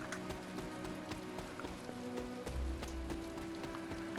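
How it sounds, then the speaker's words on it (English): Rain falls in the Marvel's Midnight Suns video game, a soft, quiet patter with light running footsteps tapping through it. "Running in the rain."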